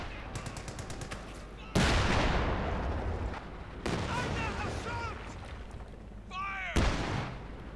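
An MG-42 machine gun fires in the video game Company of Heroes 2, loud bursts of automatic fire cutting in with booming impacts, alongside game sound effects and short electronic chirps.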